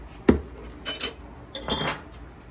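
A crusty old Craftsman 9/16 wrench knocks and clinks as it is handled, with one sharp metallic tap followed by two short rattling clatters, close and fairly quiet.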